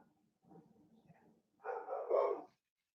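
A dog barks at a delivery truck, first in a few low muffled woofs, then in a louder burst of barking close by, with quiet gaps around them.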